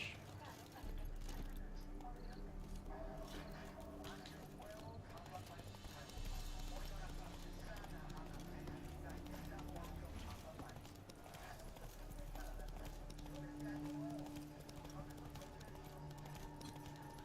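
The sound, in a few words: horse Roach galloping hooves in video game The Witcher 3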